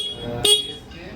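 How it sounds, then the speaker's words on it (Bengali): A short, loud beep comes from the horn of a 2023 Honda SP125 motorcycle, heard up close over a faint background hum. "আর এটা হর্নের সাউন্ড একবার শুনে নেবো।"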